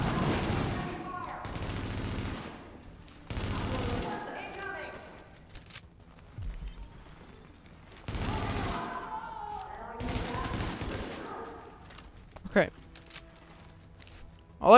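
Bursts of gunfire in the video game The Division, including sniper fire, come in several loud rattling volleys separated by quieter gaps, with someone talking between and over some of the shots.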